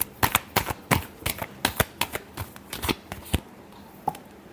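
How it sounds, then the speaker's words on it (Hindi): Tarot cards being shuffled by hand during a love reading, a rapid run of crisp, close riffling flicks and slaps in an irregular rhythm, heard alone without talk. "last shuffle,"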